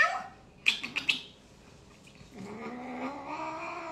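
A cat gives a few short, sharp meows close by, followed by a lower drawn-out wavering yowl, with quiet stretches between calls.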